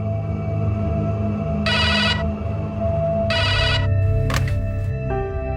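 A telephone rings in repeated bursts, two long trills followed by shorter tones, loud and close over a sustained musical background, with no one speaking.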